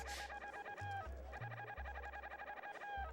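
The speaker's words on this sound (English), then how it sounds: "talking to the chicken 100 times" Repeated chicken clucks in quick succession in the video game Secret of Evermore, over a steady low electronic hum, like game music, continuous and fairly loud.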